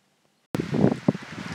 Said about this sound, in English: Now this is the very windy Deal Beach in Deal, Kent, England.